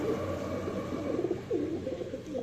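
A pair of Khulna red-necked (golay lal) pigeons give low, soft coos in short repeated phrases against a steady background hum, close by and without any talk.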